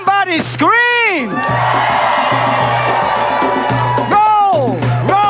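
An audience screams and cheers loudly with whoops, while big swooping shouted voices rise and fall over a low, steady background hum.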